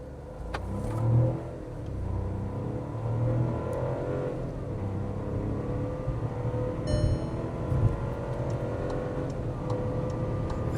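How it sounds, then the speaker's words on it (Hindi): Skoda Kushaq 1.0L automatic crawling slowly and then pulling away, heard from inside the cabin: a low, steady engine hum with gentle swells as it accelerates, plus a few faint ticking clicks, no talking. "अभी देखते हैं क्रॉल स्पीड इसकी, तो 7 की स्पीड पे गाड़ी क्रॉल कर रही है।"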